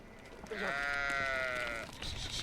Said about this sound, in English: Shepherd Ahmed El Razul is tending his goats.